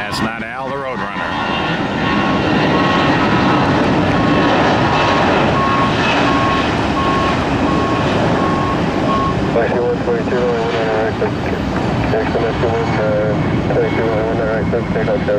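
A loud, sustained roar of a Boeing 757 jet airliner's engines on takeoff at Tampa airport fills the whole stretch, steady and close, with some radio-like voice chatter mixed in.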